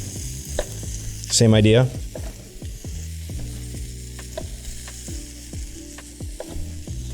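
Okra and peppers sizzle in a pan over medium-high heat: a constant crackling fry with regular scraping and clicking from stirring, and one short louder burst near the start.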